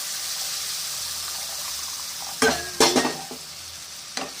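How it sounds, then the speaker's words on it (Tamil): Hot water gushes into roasted semolina in a pan with kesari powder and is stirred, producing a steady sizzle that breaks into a few louder splashing, scraping bursts near the end. "ஊற்றி நல்லா இதை வந்து கிண்டி விடணும்"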